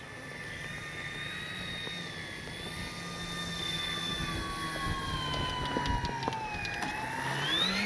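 E-flite D-18 radio-controlled model warbird doing a touch-and-go: a thin, distant electric motor whine with rising and falling pitch, swelling steadily louder toward the end.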